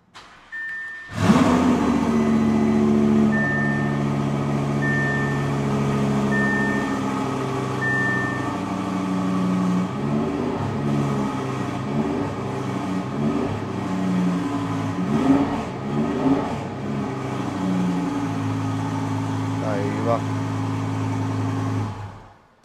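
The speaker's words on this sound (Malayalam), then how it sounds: "നമുക്ക് വണ്ടി ഒന്ന് ജസ്റ്റ് സ്റ്റാർട്ട് ചെയ്തിട്ട് അതിൻ്റെ സൗണ്ട് ഒന്ന് കേട്ട് നോക്കാം" A 1350 BHP Audi R8 race version starts in a closed garage space, then idles loudly and revs repeatedly in several sharp bursts, with a steady, deep engine drone throughout and a few faint beeps early on.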